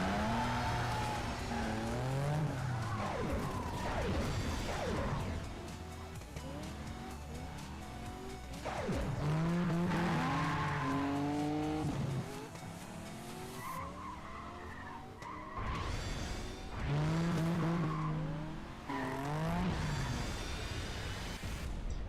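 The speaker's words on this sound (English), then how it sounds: "try to get a drift as long as you can" Cars drifting in the arcade racing game Cruis'n Blast, with long wavering tire squeals that rise and fall in repeated sustained skids over a steady engine roar, loud and close.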